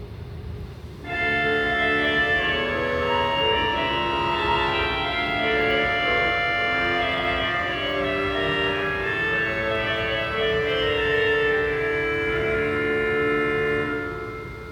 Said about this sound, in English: One of my very favorite stops on the pipe organ is called la voix humaine